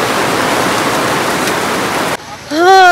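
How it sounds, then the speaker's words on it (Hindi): Heavy rain falls on a market street in Mussoorie, a loud, dense hiss that stops abruptly near the end, after which a voice is heard. "ऊपर से बारिश और हो गई है"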